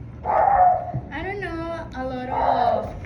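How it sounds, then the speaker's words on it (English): Dogs out on the street bark and yelp in a few short, tonal bursts, fairly close and loud, mixed in with a person talking over them. "Wait, hear that? Oh my God, there's dogs."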